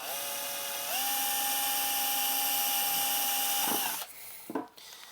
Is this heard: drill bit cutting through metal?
yes